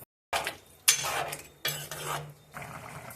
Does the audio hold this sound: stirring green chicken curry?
yes